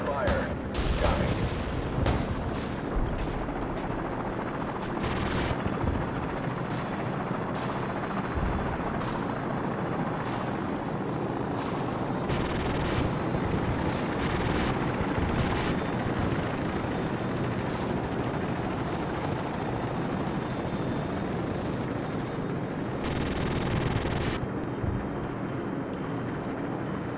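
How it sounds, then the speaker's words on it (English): Helicopters pass overhead amid heavy gunfire in Call of Duty 4: Modern Warfare, with dense bursts of shots and explosions over a steady rotor drone throughout. "friendly helicopters entering the area"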